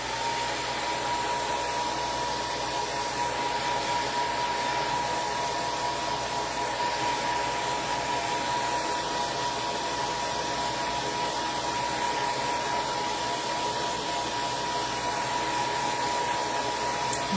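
A hair dryer runs continuously while drying painted farm lettering on a wooden towel holder, producing a steady, loud, close airy whir with a faint tonal whine and no pauses.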